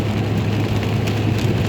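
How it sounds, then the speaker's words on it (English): Rain falls steadily on a car driving along a highway, a dense broadband hiss over a constant low road and engine rumble, with no talk. "On the highway in the rain"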